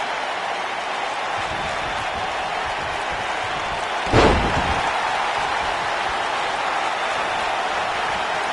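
A wrestler slammed onto the mat in a PS4 wrestling video game, one sharp heavy thud midway that rises out of a constant roar of arena crowd noise and then fades back into it.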